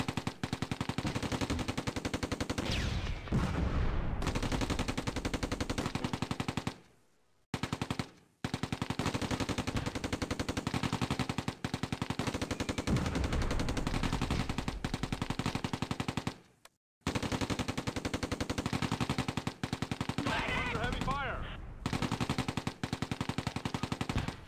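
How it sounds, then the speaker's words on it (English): Sustained machine gun fire rattles on in the Close Combat: A Bridge Too Far WWII video game, with long continuous bursts broken by a few brief pauses. "machine gun opens fire at the location of the enemy mortar"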